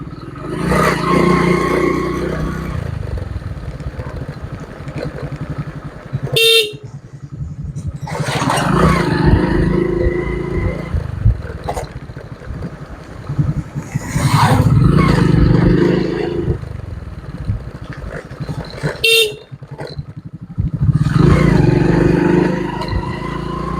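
A motorcycle engine hums steadily along a road, rising and falling with throttle changes, close and continuous throughout.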